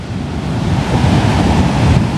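Ocean waves breaking at Kuta Beach in Bali, a steady broadband wash of surf rolling in close and loud, with wind buffeting the microphone and no voices.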